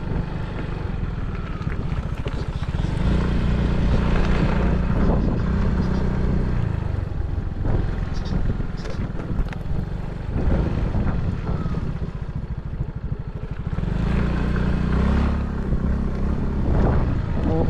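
A river boat engine runs steadily and loudly with a low, throbbing drone, rising and falling in strength over the whole stretch, with wind rushing across the microphone and no talking.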